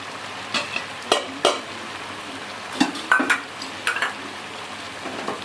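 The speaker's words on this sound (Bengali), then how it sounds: "ভালো করে কষিয়ে নেব পুদিনাটাকে।" Chicken cooks in a pan with a blended mint and coriander leaf paste. A spatula scrapes and clinks against the pan in irregular bursts over a soft, steady sizzle, close by and without speech.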